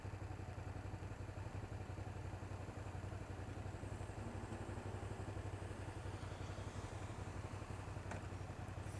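A motorcycle rumbles steadily on a ride, a low chugging engine note under constant rushing wind, with no talking.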